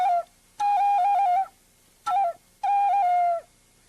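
A Native American style flute plays short bright robin-like calls, four whistled phrases in two pairs, each clear and steady with small pitch flicks, played alone and close.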